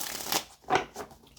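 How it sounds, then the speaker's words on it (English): Tarot cards shuffled by hand, a few quick riffling bursts of papery flicking and sliding close by, separated by brief pauses. "let's just shuffle two more times"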